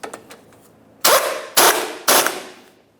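Torque wrench clicking three times, evenly spaced and loud, while a tie rod end stud on a 1994-2002 Dodge Ram is tightened to 80 foot-pounds; faint handling noise before the clicks.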